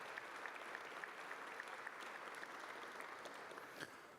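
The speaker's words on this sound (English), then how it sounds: "we just want to give Coach a round of applause for" A room gives a round of applause for the interim men's basketball coach at a head-coach introduction event: steady, fairly faint clapping from a small crowd that carries on evenly for the whole stretch.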